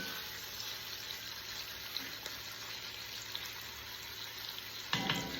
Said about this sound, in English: I'm going to give that a little